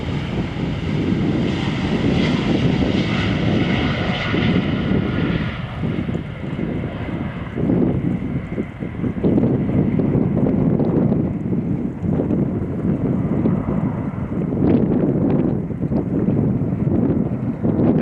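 Jet airliners depart Amsterdam Schiphol Airport in a loud, continuous, close roar. Wind buffets the microphone on a blustery January day, and no one speaks.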